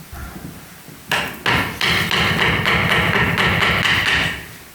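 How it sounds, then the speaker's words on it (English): A hammer strikes a bonsai pot to punch holes through it, two sharp blows followed by a fast run of rapid, ringing taps, loud and close, with no talking. "is there a hammer at all? I was going to use this to try to punch through the"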